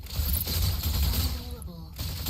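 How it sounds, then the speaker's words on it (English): Fast energy autocannon fire from a mech in Mecha BREAK rattles in a steady loud stream, thinning briefly near the end as mechanical whirring and faint voice-like sounds come through. "Neutralize all enemy strikers using the energy autocannon."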